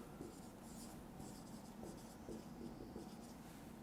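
Marker or chalk writing the word cuboid on a classroom board, heard as steady faint scratchy strokes in a few short bursts over a low room hum, with no voice.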